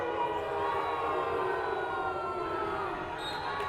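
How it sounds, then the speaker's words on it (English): A basketball crowd in a college gym booing a referee's late charging call, a sustained, loud, droning roar of voices filling the arena without a break. "that the Brookdale crowd is not happy with that call."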